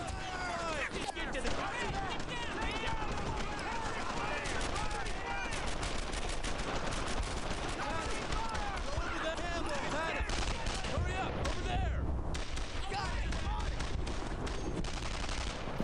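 Brothers in Arms: Earned in Blood combat with a sustained mix of rifle and machine-gun fire crackling continuously for the whole stretch, loud and dense, with shouted voices mixed in.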